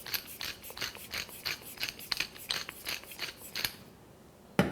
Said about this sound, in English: crack in some pepper